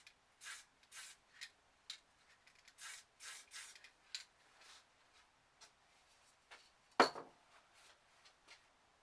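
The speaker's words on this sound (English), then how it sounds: "And we're just going to spray a light spray." Light yellow spray paint hisses through a star stencil in a series of short bursts, several brief close sprays with gaps between, ending in one sharper louder burst.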